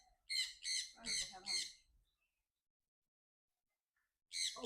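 Small birds at Penang Bird Park giving a few quick squawking calls in a cluster, then a silent gap before another call at the end; close and clear, no talking.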